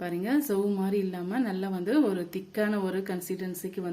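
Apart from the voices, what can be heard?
No everyday noise stands out behind the speech.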